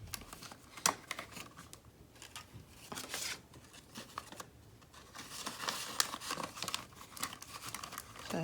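Paper cash envelope from a savings challenge book handled up close, with crinkling, rustling and papery snaps in irregular bursts, fairly soft throughout, with no talking.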